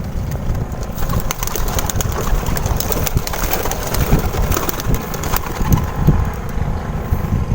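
Pigeons coo softly and continuously close by, with scattered rustling and fluttering sounds mixed into a busy background.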